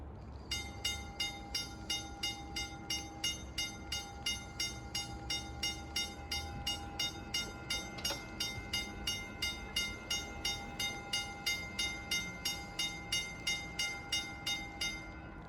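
Passenger rail diesel car RDC #9168 approaches on a snowy day, heading back to Pittston, with steady rhythmic clacking of wheels over rail joints and a sustained tone, heard at a moderate distance with no talking.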